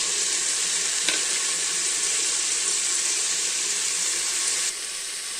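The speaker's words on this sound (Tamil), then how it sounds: "இப்போ இதெல்லாம் நல்லா வதங்கிடுச்சுங்க." Onion, tomato, mint and coriander sauté in a pan, giving a loud, steady, close hiss of frying that holds evenly and drops slightly in level near the end.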